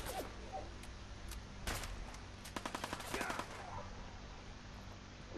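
Gunfire in Fallout 4 inside the Mass Pike Tunnel, with a few scattered single shots followed by a rapid burst of several cracks, fairly quiet against a low game ambience with no talk.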